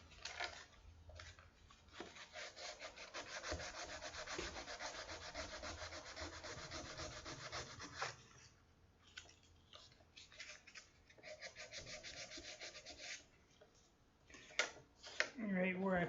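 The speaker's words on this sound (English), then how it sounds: "There's one part where I'm going to need to use a heavier grain sandpaper, and it's going to be right here." Heavier-grit sandpaper rubs back and forth on a wooden guitar body during guitar building, giving quiet, rhythmic scratchy strokes in bursts separated by short pauses.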